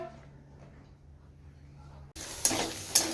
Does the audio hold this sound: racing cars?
no